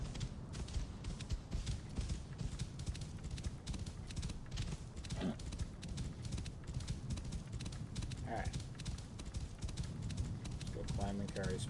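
Horse hooves clip-clop steadily in Assassin's Creed Origins, a continuous rhythmic trot beneath a dense game soundscape, with someone speaking briefly.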